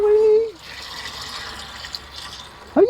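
Water runs from a hose in a steady, splashing hiss with a gurgling, filling quality. Voices speak briefly before and after the flow.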